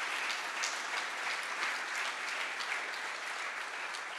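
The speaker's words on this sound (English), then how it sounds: "So again, round of applause for these amazing," Audience applause at a security conference closing session in Marbella, Spain, a steady dense wash of many hands clapping, moderately distant and even throughout, with no voices over it.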